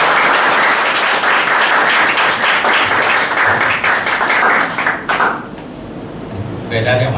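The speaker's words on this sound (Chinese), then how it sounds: "来，我们这边的掌声给大家" A church congregation welcomes a speaker with loud, dense clapping for about five seconds that then tapers off, followed by quieter room sounds, a few knocks and speech.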